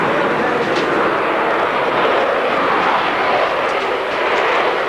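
An airplane roars overhead in steady, broadband drone, loud and continuous throughout with no talk, in the town of Kindu in the Democratic Republic of the Congo.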